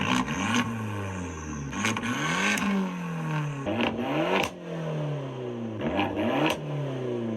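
A Fiat 500 Abarth engine revs repeatedly, each burst climbing in pitch then dropping back, with crackles and pops between blips, loud and close with no talk.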